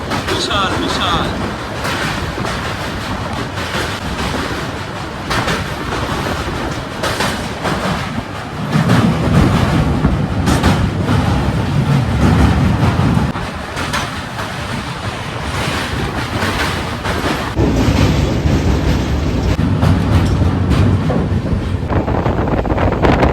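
A passenger train runs on its rails near the Teesta river on the way to Jalpaiguri Road, giving a steady loud rumble with wind and rushing noise throughout and heavier low roaring swells midway and near the end.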